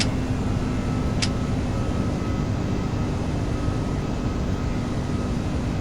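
Aerosoft A330 airliner engines at climb thrust in a flight simulator, a steady broadband jet roar with a low hum and faint tonal whine, continuous and unchanging, with one brief sharp click near the start.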